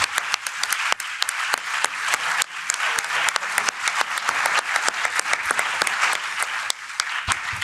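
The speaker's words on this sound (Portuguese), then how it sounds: "Un aplauso para ellos" Audience applause for the embassies of Cuba, Venezuela, Bolivia and Nicaragua at a Cuba solidarity forum in a parliament, a dense, steady clapping throughout with sharp individual claps standing out.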